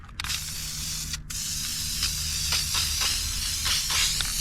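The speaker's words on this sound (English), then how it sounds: "Let's get a little paint on our pulley." Aerosol spray paint hissing onto a Pontiac engine's water pump pulley, a steady close-up hiss lasting several seconds with brief gaps and slight pulses, over a low background hum.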